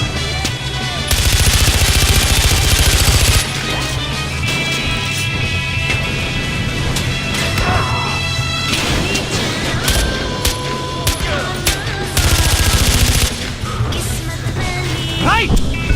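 Heavy gunfire from a firefight in the video game Far Cry 4, with loud bursts of automatic weapons and scattered shots under shouted voices and game music, two especially dense volleys standing out near the start and later.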